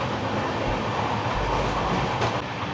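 A fast passenger train on the Repalle to Secunderabad route, giving a loud, continuous rumble of wheels on track with a steady rolling clatter throughout and no speech.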